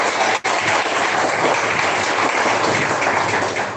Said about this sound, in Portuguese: exalta Ele com as palmas bem alegres